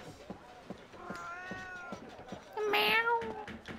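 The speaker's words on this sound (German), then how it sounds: "Ja, die Katze vom letzten Mal." A cat meows in the video game The Last Story, giving two drawn-out, clear meows close by, with a second louder call near the end, over soft background footsteps.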